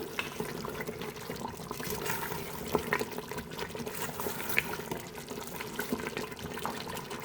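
Water pours steadily into a cooking pot of beef paya gravy with a continuous splashing, gurgling rush, close by and uninterrupted for several seconds.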